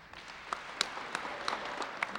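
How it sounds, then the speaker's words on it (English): A crowd applauds inside Union Station, a busy train station hall, as officials announce faster commuter rail service to Boston; the steady patter of many hands sounds reverberant and mid-distance. "Applause echoing throughout Union Station as Lieutenant Governor Karen Polito announces plans for faster service to Boston."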